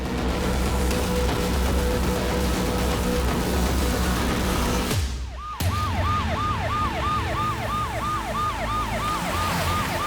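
A loud ambulance siren wails steadily, briefly cutting out, then resumes with a fast repeating yelp pattern, close by over traffic rumble.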